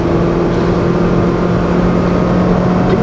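A Honda car's engine holds a high, strained rev on a track after a missed shift into third gear, a loud, steady tonal drone that stays level without a break.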